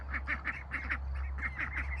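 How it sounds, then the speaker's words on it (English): A male Peking duck quacks in a steady series of short, nasal calls, about a dozen in quick rhythm, close and fairly loud over a low constant hum. "a male Peking duck that I adopted from Sonoma"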